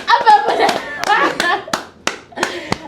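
Hands clapping in a string of sharp, separate claps with irregular spacing, heard near and loud while voices talk over the first half.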